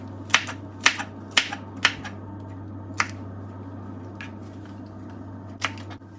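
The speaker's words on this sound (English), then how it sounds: "now the only thing that remained non-chopped were the okra, so it's now time for us to do some choppings with it" Okra being chopped with a knife on a cutting board for a seafood okra stew, about seven sharp, close knocks, the first few quick and regular, then sparser, over a low steady background hum.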